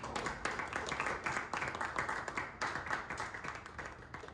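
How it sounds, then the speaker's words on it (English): Applause from an audience at a panel discussion, a modest crowd clapping steadily and somewhat faintly with uneven bursts of hand claps throughout. "Give me a round of applause."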